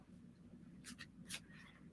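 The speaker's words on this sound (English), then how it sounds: "Overhand shuffling isn't bad." A few quick riffling bursts of cards being shuffled by hand, soft and close, with quiet background between the brief rustles.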